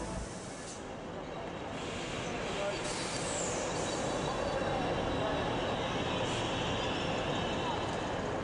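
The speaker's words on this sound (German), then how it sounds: "Bereitgestellt wird der ICE nach Kopenhagen." A diesel ICE-T tilting train idles at Hamburg main station, its steady engine drone and broad station rumble holding loud and continuous throughout, with no clear speech over it.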